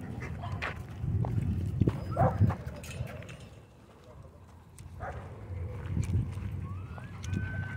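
Dogs at a dog park scuffle and play, giving a few short barks and whimpers amid patter and movement noise at close range.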